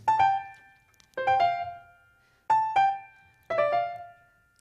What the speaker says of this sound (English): And our red-eyed vireo sounds like this.